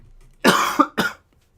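A single person's cough, two close harsh bursts followed by silence, near and fairly loud, during a Pokémon card game match commentary.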